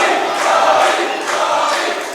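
Loud arena wrestling audience chanting Bobby Ballantyne's name in steady rhythmic waves, a thick blend of many voices heard close up with no single speaker standing out.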